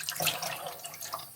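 Hot water running and splashing into a sink or tray in a photographic darkroom, used to loosen a developed emulsion lift; a steady close watery wash with small bright splashes throughout.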